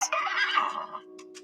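A horse gives a loud, clear whinny, a single rising-and-falling neigh of about one second followed by a short snort, heard alone.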